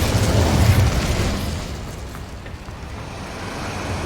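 The Incendio fire spell goes off in Hogwarts Legacy as a loud, whooshing burst of flame that roars at the start and then fades to a steady, fuller rumble, with no talk.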